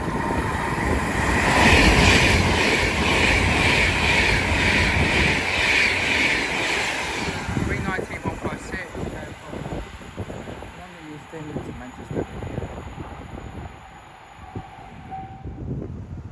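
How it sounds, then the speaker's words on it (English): An Avanti West Coast Class 390 Pendolino passes through Watford Junction on the West Coast Main Line: a loud, broad rushing roar fills the first half, then thins into scattered rumbles and clicks as it draws away. "As also about to pass will be a Advent West Coast 390 Pendolino."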